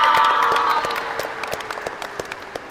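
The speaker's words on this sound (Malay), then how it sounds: "tepuk tangan untuk Nabil, dia jawab dulu" A classroom of students claps for a classmate, loud mixed applause that gradually thins into a few scattered claps near the end.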